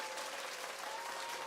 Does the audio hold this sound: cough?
no